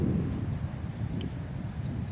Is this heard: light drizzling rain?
yes